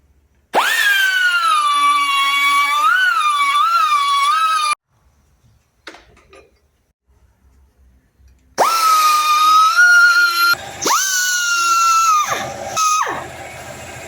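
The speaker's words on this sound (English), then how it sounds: "And you do that with the die grinder." A die grinder cleans up welds on a branding iron, giving two loud high-pitched whining bursts that rise and fall in pitch as it bites into the metal, with a quiet gap between them.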